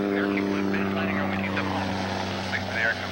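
A Russian Antonov An-2 biplane's propeller engine drones steadily during takeoff, a constant low harmonic hum with a voice talking over it the whole time.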